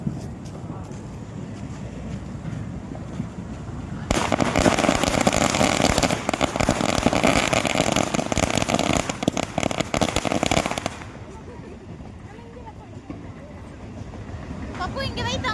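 Diwali firecrackers burst in a loud, dense crackling volley for several seconds, preceded and followed by quieter outdoor background with people talking nearby.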